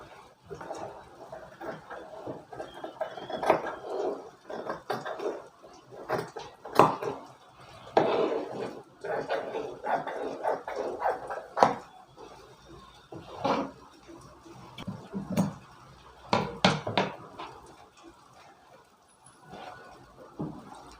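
Scissors cutting blouse fabric pieces for a matka-neck back blouse, with irregular snipping and rustling strokes of varying loudness, close up and without talk.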